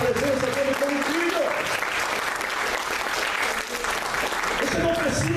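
A church congregation applauds during an evening service, steady crowd clapping throughout, mixed with voices and tonal sounds that could be singing or music.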